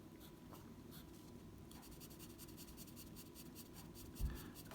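A 2H pencil draws fine, light lines across paper, giving a soft, close scratching with short strokes that pick up partway through, plus a small bump near the end.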